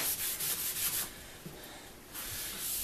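A blade is sharpened on a 1,000 grit King waterstone, with close, rhythmic gritty rubbing strokes that pause briefly midway and then resume, with no voices.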